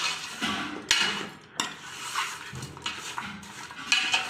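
A spoon scrapes and clatters in a pot as goat head meat is stirred with turmeric for a village-style curry, with irregular metallic knocks and soft scraping, fairly close with no talk.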